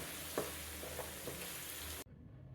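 Chicken ghee roast, Kerala style, sizzling and frying in a pan while being stirred, a steady crackling hiss with a few soft scrapes that cuts off abruptly near the end.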